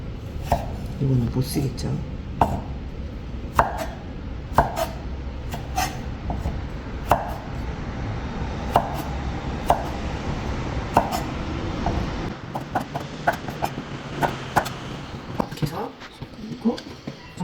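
A knife chops vegetables on a cutting board, crisp, close knocks coming in irregular bursts, with a person talking in Korean over them.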